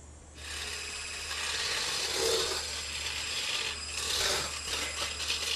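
Cold cream whipped by an electric mixer into soft-peak whipped cream, a steady mechanical whirring and rattling that runs continuously, loud and close, with no talk.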